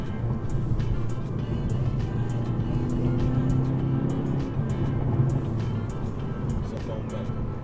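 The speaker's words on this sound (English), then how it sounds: "You can hear the exhaust open up and get a lot louder." A deep, steady engine and exhaust drone from a 2021 Hyundai Veloster N in sport mode with the exhaust open rumbles throughout with a low throaty tone, while a person talks over it.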